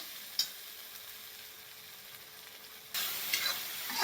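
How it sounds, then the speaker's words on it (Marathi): A steady sizzle of egg-curry spice paste frying in a pan with little splashes of water, which grows suddenly louder and hissier partway through, with a soft clack of stirring. "असं थोडं थोडं पाणी घालून आपल्याला हा मसाला भाजून घ्यायचा आहे"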